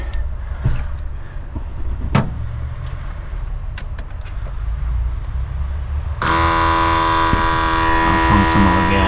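A rusty old Mustang's engine, given more gas, rumbles low with a few scattered knocks, then abruptly swells into a loud, steady, harmonic-rich drone for the last few seconds.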